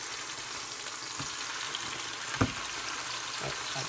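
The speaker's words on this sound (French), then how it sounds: "Je vais juste tourner." Food frying in a pan is stirred, producing a steady soft sizzle with a couple of brief scraping knocks from the utensil, fairly quiet and close.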